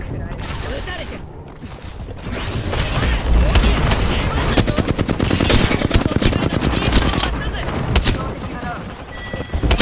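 Gunfire in Apex Legends plays out as dense, continuous automatic bursts and booming shots, loud and close, layered through a chaotic firefight with voices talking over the top.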